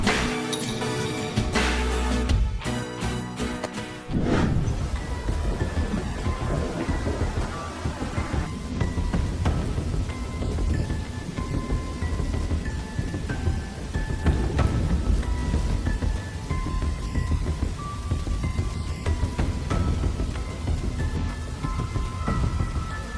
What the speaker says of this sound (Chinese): 天色太晚了，外面在下雨